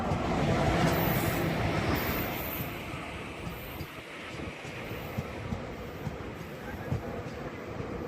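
A train leaving the station gives a steady broad rumble and rolling clatter, louder at first then easing slightly, with faint wind noise over it and no clear talk.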